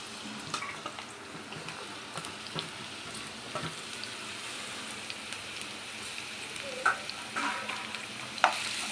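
Curry leaves and sliced green chillies fry in oil in a pan, crackling with a steady rain-like sizzle and sharp sporadic pops and stirring clinks, close and moderately quiet.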